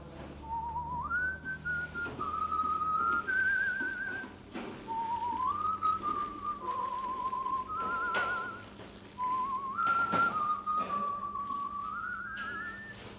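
Two people whistle a tune in three melodic phrases with brief pauses between them, accompanied by a low background hum; the second whistler is hard to pick out.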